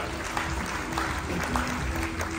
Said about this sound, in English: let's give Isabella a big round of applause